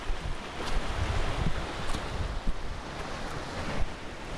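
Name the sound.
waves and wind on Barmston Beach, Yorkshire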